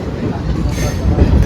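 A train running on the line after a delayed afternoon departure, a loud, steady rumble of carriages with low rolling noise and faint rattling, heard from on board.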